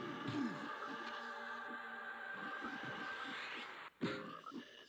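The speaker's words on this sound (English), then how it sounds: "Keep blasting these frogs." Frogs in a video game croak over a steady, dense swampy background, fairly quiet, with repeated croaks and a brief dropout near the end.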